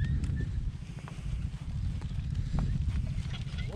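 Heavy draft horses move about on a farm in the Lviv region of Ukraine, giving close, irregular hoof thuds and shuffling over a low rumble, with no talk.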